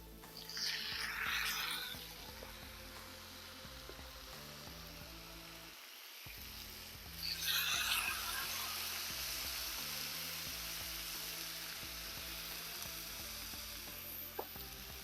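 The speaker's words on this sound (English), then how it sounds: "Get that sizzle going." Marinated skirt steak sizzles on a hot Blackstone griddle, giving a soft, steady frying hiss with a couple of brief louder bursts as more meat goes down.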